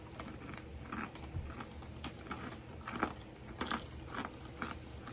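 Someone bites and chews crunchy pretzels up close, making a run of quick crisp crackles and crunches in an irregular rhythm, fairly faint and with no talking.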